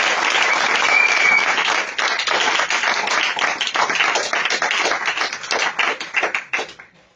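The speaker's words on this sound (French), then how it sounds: "je voudrais qu'on s'applaudisse nous-mêmes" A crowd at a Gabonese political party rally applauds itself, a loud, dense wash of clapping that holds steady for several seconds, then thins out and fades near the end.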